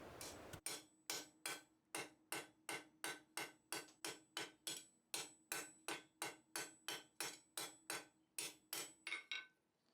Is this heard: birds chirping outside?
no